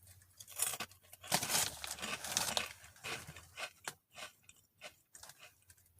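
Close, crisp crunching of a crunchy coloured snack being chewed, with a dense burst of bites early on, then slower, separate chews that fade toward the end, with no talking.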